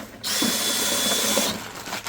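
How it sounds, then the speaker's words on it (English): Cordless 18-volt drill mixing self-levelling compound in a bucket: a sharp start into a steady high-pitched motor whine with slight churning, running close for just over a second before cutting off abruptly. "So I'm just going to use just an 18-volt cordless drill"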